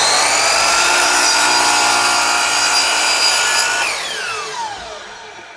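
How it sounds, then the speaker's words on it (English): A miter saw cuts through the end of a wood board, a loud steady whine that spins down and fades near the end. "I'm just sharpening the ends up with my miter"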